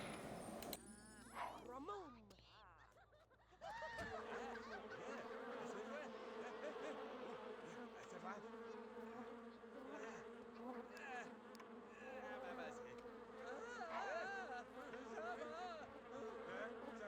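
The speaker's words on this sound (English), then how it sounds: "I think I'm gonna do the one that makes the sim get attacked by bees" A swarm of bees attacks a sim in The Sims 2, a dense, steady buzzing that starts after a brief lull and carries on loud and close under a background voice and game music.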